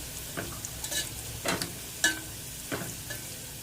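Garlic fries in a pan with a soft continuous sizzle, broken by several scraping stirs of a utensil against the pan and a brief clatter.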